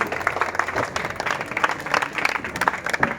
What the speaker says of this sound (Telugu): విద్యార్థులు ఒక్కసారి మీరందరూ కూడా కరతలతో గౌరవ ఎమ్మెల్యే గారికి మరియు మన గౌరవ రెడ్డి గారికి గట్టిగా చప్పట్ల ద్వారా మన హర్షాన్ని వెలుపుచ్చాలి